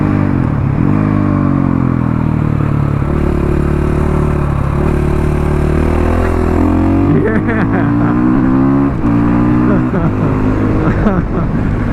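A 2016 KTM 500 EXC supermoto motorcycle is ridden hard: a loud, close single-cylinder engine drone that rises and falls in pitch as the throttle changes, continuous with rushing wind noise throughout.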